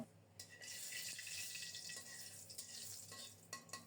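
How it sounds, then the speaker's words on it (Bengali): Radhuni seeds tempering in hot oil, a bright, dense close-up sizzle with rapid crackling spits that runs nearly the whole few seconds, no voices. "তেল গরম হলে রাঁধুনি ফোড়নে দিলাম"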